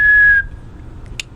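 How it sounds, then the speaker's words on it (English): A person whistles one clear, steady high note for under half a second, close and loud, then it cuts off into quiet with a brief faint breathy hiss. "You can whistle blowing out, or whistle sucking air in."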